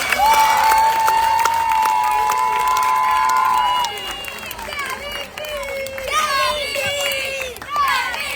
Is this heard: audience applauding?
yes